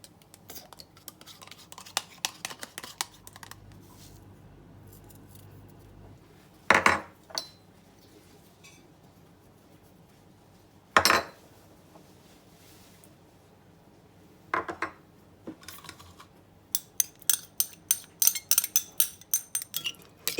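Tartar sauce ingredients being mixed in a bowl, heard as sparse metallic clinks and taps of a utensil against the dish, a few louder knocks, then a rapid run of clicks toward the end.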